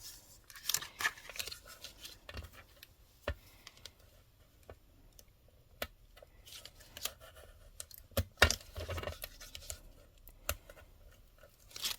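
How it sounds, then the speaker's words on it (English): Vellum trimmed off a card panel, heard as irregular close, crisp snips and small crinkling clicks scattered across quiet moments, with no talking. "so I'm just going to trim that away."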